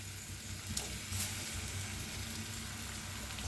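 Minced garlic and coarsely crushed green chili dropped into hot oil for tempering fenugreek greens, giving a steady close sizzle with a couple of brief louder spits near the start.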